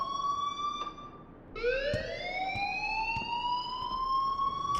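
In the video game Life is Strange, an electronic alarm wails in a rising, sweeping tone that dips, restarts and climbs again, loud and continuous with faint clicks.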